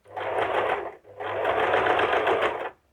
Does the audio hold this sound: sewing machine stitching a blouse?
yes